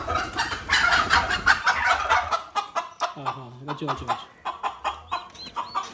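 Native domestic chickens clucking on a farm alongside blue turkey birds and chicks, a run of short, close clucks and calls against a busy background, with a person talking over part of it.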